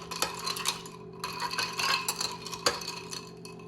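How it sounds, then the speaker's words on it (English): A spoon clinks and scrapes softly against a glass, stirring sweetener into vegan cold brew iced coffee, with light irregular taps close by and quiet. "And then we're going to give that a stir."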